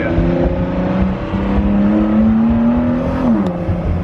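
A 2017 Ford GT accelerating from inside the cabin, a loud steady engine drone with a rising turbocharger whine that climbs in pitch, then drops sharply near the end.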